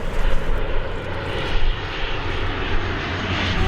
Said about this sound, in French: tu vois l'avion? Tu le vois?